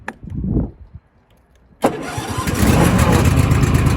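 A Cub Cadet LX42 XT2 Enduro Series lawn tractor cranks briefly, catches and fires up, then settles into a loud, steady running engine rumble close by.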